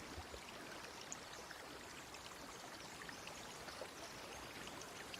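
Soft, continuous flow of water by a shore in a video game, a faint trickling stream with small splashy ticks, quiet and even throughout, with no talking.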